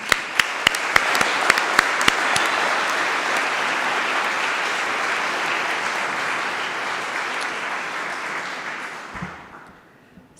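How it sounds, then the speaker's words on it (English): Audience applause for medical graduates at a 2026 Faculty of Medicine diploma ceremony, a dense, steady clapping from a large crowd with a few sharp nearby claps, holding for about nine seconds before fading out. "So please, a big applause for our graduates."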